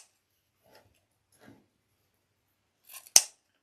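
Scissors snip ribbon for an Army-themed patriotic wreath, a single sharp close cut near the end after a few faint handling rustles in a quiet craft room.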